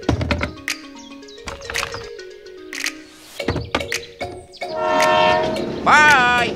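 A toy train loaded with gift boxes runs along, its horn sounding in loud bright blasts near the end after scattered clicks and short knocks.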